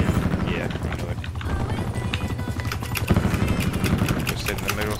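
An attack helicopter in Call of Duty Black Ops 4 multiplayer on the Arsenal map, its rotor thumping in a rapid steady pulse amid game gunfire, heard under ongoing player chatter.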